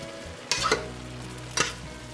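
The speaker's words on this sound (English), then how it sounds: "Give that a stir." Garlic, oregano and sugar sizzle softly in a pan while a spoon stirs them, giving two distinct scraping strokes about a second apart over the faint, steady frying hiss.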